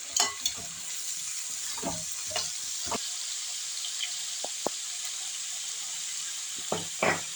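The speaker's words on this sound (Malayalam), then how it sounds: "പച്ചമുളക് കൂടിയുണ്ട്, മൂന്നാലഞ്ച് പച്ചമുളകുണ്ട്, അത് നെടുകെ കീറിയത് അതും കൂടിയിട്ട് നമുക്ക് വഴട്ടാം" Slit green chillies sautéing in a pan for Onam avial, a steady close sizzle with occasional stirring clinks and scrapes, no talk.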